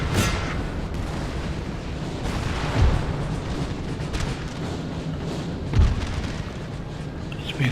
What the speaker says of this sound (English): Let's move the artillery onto this unit.